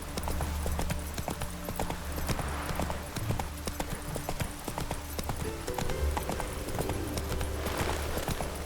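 Hoofbeats of the horse Roach clip-clop in Witcher 3 as it moves and backs up, a busy, continuous pattern of fairly close steps over game ambience.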